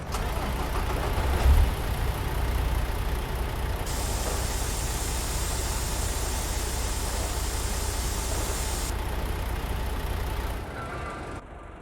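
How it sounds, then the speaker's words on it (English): A truck engine idles and runs steadily in American Truck Simulator, a continuous low rumble with a brief thump near the start and a brighter high hiss over the middle section, fairly loud throughout before cutting off near the end. "so turn on the engine"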